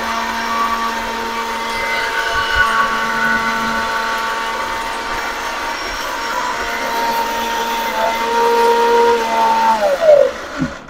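An electric mixer grinder blender grinds turmeric into powder, a steady high whining motor hum that holds for several seconds, then pitches down and winds off near the end.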